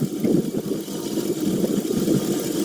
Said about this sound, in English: it sounds like the engine surging to me